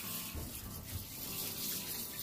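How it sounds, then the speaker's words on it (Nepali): Water runs from a tap in a steady, splashing stream, a continuous watery rush at moderate volume with no voices over it. "धारा"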